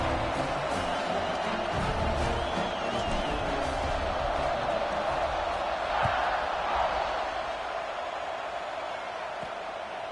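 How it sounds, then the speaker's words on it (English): Football stadium crowd roaring at kickoff of an Alabama versus Tennessee game, a broad sustained wash of cheering from a huge crowd with faint whistles and shouts mixed in. "this crowd now ready to get behind them"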